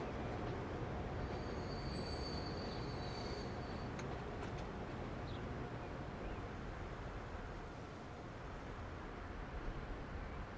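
Trains running in Transport Fever 2, a steady broadband rumble of rolling railcars with a brief high wheel squeal early on, continuous and fairly loud with no talking.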